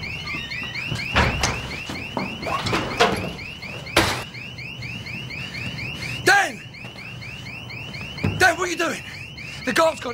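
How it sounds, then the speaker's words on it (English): A car alarm blares with a rapidly repeating electronic warble, loud and continuous, while several sharp bangs and thuds sound over it and voices speak briefly. "No, I set the alarm off."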